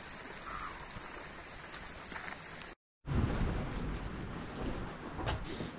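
Steady rain falling during a July mountain thunderstorm, a dense continuous hiss of drops on surfaces, briefly cut to silence midway before resuming just as heavy, with no voices.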